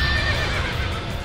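A horse neighs loudly and up close in the video game Warriors Orochi 3, a single sustained whinny layered over dense game noise, with no talking.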